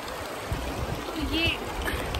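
Cold mountain stream water in Yumthang Valley, Sikkim trickles and gurgles steadily close by, a constant watery wash with a faint human sound partway through.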